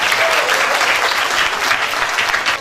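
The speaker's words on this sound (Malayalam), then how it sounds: "അവർക്കൊരു നല്ല കൈയടി കൊടുക്കാം." A school debate audience breaks into a steady burst of dense applause, a continuous wash of clapping from many hands for a few seconds.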